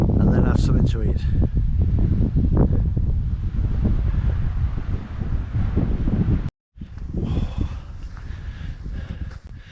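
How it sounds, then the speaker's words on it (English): Strong wind blows across a Scottish mountain wild camp, a loud continuous buffeting roar hitting the microphone with gusty rises and brief lulls, broken by one short drop to silence. "It's been wild and windy."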